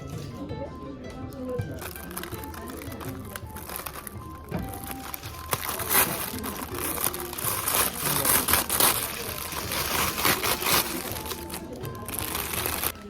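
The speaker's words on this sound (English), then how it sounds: "this interesting plastic bag" A plastic bag crinkles and rustles at a Japanese inn dinner table, with intermittent crackling bursts over background chatter and the soft clinks of a meal.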